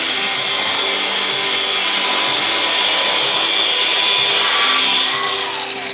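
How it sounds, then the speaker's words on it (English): Welded U-bolts are cut off the frame rails of a vehicle chassis sitting on a frame rack, producing a loud, steady grinding-cutting roar that holds without a break before easing slightly at the end. "cutting the U-bolts here"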